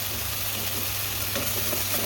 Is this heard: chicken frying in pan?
yes